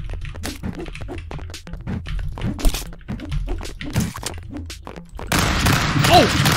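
Rapid, punchy weapon shots and impact thuds from the game Stick Fight come in a quick irregular burst, followed by a louder, noisier stretch of chaotic action. A voice talks over the shots.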